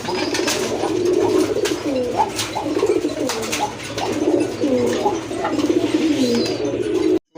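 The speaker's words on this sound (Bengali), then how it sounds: "এটা হচ্ছে এক জোড়া সুভাচন্দন কবুতর, রানিং পেয়ার" A pair of Shubhachandan pigeons coo close by in repeated soft, throaty rolling calls that come one after another, steady and clear, before the sound cuts off abruptly at the end.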